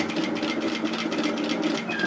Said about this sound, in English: put my presser foot down, and stitch across